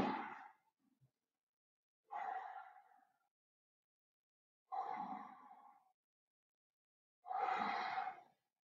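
Four slow, deliberate breaths, each a soft airy exhale lasting about a second, spaced evenly with silence between them during a yoga pose.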